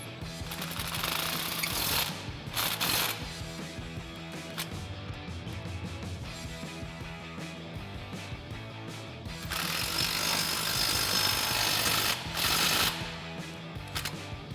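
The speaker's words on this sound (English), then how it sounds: "we've switched out to a 15 millimeter swivel socket and extension on our impact to go ahead and tighten" An impact wrench with a 15 mm swivel socket and extension tightens exhaust flex pipe flange bolts on a 2021-2024 Ford Bronco, giving sustained rattling hammering bursts that continue for the whole stretch and swell louder near the end.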